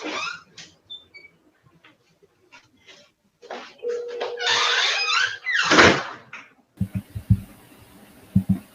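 A door squeaks and creaks as someone leaves the room, followed by a few knocks and clunks, with brief bits of voice and room noise around it.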